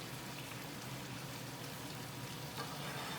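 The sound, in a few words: chicken stock sizzling in pan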